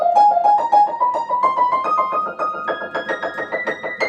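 A blues scale played as a rising triplet pattern, notes grouped in threes and climbing steadily through successive scale degrees in a clear, moderately loud melodic line.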